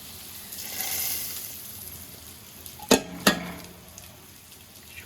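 Garlic and red chili tempering hisses in hot oil for dal, a soft steady sizzle with two sharp loud bursts near the middle as the hot tadka hits, then settling back to a low crackle.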